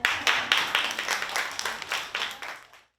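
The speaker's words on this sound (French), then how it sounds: "On s'acclame." A short round of audience applause, a brisk burst of hand claps that swells and then cuts off abruptly after about three seconds.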